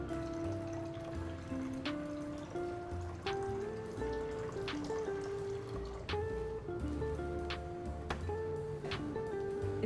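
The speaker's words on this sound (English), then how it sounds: "is to add water to this container." Water pours into the water container of a Carysil built-in coffee machine. Soft trickling and splashing run under faint ringing tones and a few sharp clicks, with no one talking.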